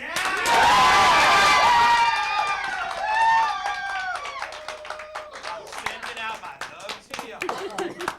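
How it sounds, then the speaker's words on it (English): A studio audience at a dating game show cheers and whoops loudly, then breaks into sustained, scattered clapping that gradually thins out, with a host's voice over part of it. "I think the crowd is into contestant number 1, Shaft."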